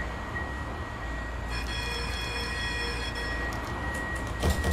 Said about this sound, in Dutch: Waarom rijdt die trein niet voor me trouwens?